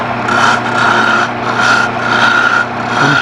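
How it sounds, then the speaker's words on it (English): Sandpaper rasps against a turned wood icicle spinning on a lathe, close and loud, in repeated pulsing strokes over the steady hum of the machine. "at that point I ought to touch this up with a little bit of sandpaper"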